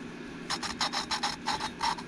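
A new valve is lapped back and forth into the seat on a Yamaha YFM225 top end, giving about eight quick, faint gritty rasps in an even rhythm over a low background hum.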